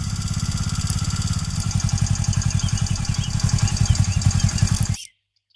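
A motorcycle engine runs steadily close by with a throbbing, rapid idle-like pulse, growing slightly louder before cutting off abruptly into silence; no talking.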